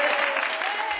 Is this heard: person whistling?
no